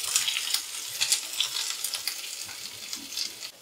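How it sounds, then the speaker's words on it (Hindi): Sliced onions fry in hot oil over a medium flame, a bright crackling sizzle with rhythmic stirring strokes every half second or so, close and fairly loud, with no talking. "बस 2 मिनट मीडियम फ्लेम में इस तरीके से बीच बीच में चलाते हुए हम फ्राई करेंगे"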